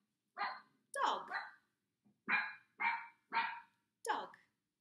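Close, loud barking from a dog comes in two quick barks, a pause, then three steady evenly spaced barks and a final sharper yelp, with silence between.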